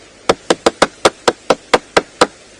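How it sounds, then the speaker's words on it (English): A bearded woodpecker drums on dead wood on an African safari drive, delivering about ten crisp, evenly spaced knocks at a moderate pace, close and clear with no voices. "That's the sound of the bearded woodpecker as he does his drumming."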